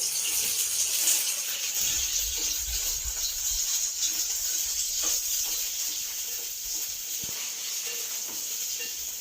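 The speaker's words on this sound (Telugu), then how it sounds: "రెండు స్పూన్లు వేసానండి, చిన్న స్పూన్లు 2 వేసాను, ఎందుకంటే పచ్చిమిరపకాయలు వేగాలి కదా." Green chilies frying in oil in a pan while making dondakaya pachadi, giving a steady, continuous bright sizzle and hiss at close range that holds evenly throughout, with no talking.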